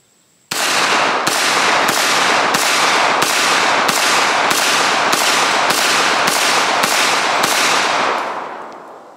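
A Taurus TH45 pistol fires twelve rapid, evenly spaced loud shots of Blazer 230 grain ammunition at a shooting range, with a steady rhythm and no talking.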